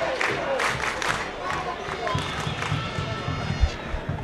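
Palestinian supporters cheer for their club in Chile, a dense, continuous crowd roar with shouting and scattered clapping filling the stadium air throughout.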